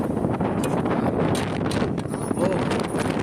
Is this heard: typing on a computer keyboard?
no